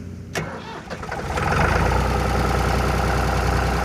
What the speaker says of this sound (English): what we see now is a Ford 3000 tractor with a turf harvester attached to it